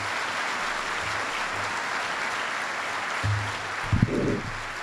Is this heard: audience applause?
yes